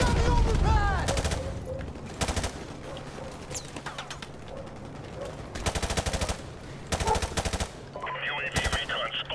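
M4 rifle gunfire in Call of Duty: Modern Warfare Remastered: several loud, rapid bursts of automatic fire crack out at irregular intervals over a steady background of battle ambience.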